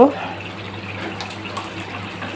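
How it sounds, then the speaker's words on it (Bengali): Water pours steadily into a pot of chicken curry with yardlong beans, a continuous, even splashing rush that holds for a couple of seconds. "এখন আমি ঝোলের জন্য পানি দিয়ে দেব"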